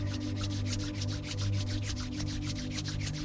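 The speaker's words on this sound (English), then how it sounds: "just start to rub through the hands, creating some heat" Palms rub briskly together to build heat during a fitness cool-down, a close, steady rhythmic swishing friction repeating several times per second over a low background hum.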